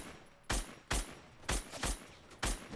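Gunfire in the Fortnite video game: five sharp, loud shots spaced irregularly about half a second apart, each with a short echoing tail, over a low background.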